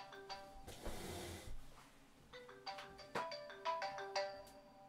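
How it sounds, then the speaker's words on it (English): A phone ringtone plays a melodic electronic tune of bright repeated notes at moderate volume indoors, with no talking over it. "Leave your bloody phone off."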